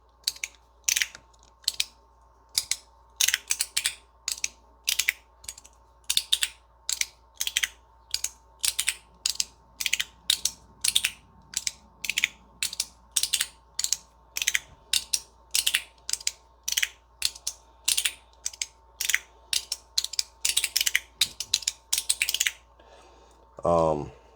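An Ant Design S-Nano fidget in titanium and polished, grip-milled zirconium is clicked repeatedly up close: dozens of sharp metallic clicks come in quick, steady runs with brief pauses, ending in a short sliding rasp.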